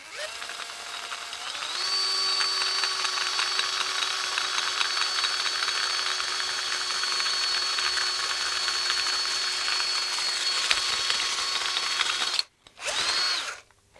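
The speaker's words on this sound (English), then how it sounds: "I put the drill in reverse." A power drill spins in reverse against a metal pedal enclosure, a steady high whine held for about ten seconds before cutting out, followed by a short final burst.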